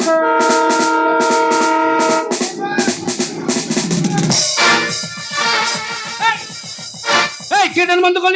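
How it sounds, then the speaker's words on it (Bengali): A passing train's horn blares loud and close in long sustained blasts, followed by more horn bursts mixed with nearby people talking and calling out. "টেন আসছে টেন আসছে মামা টেন আসছে"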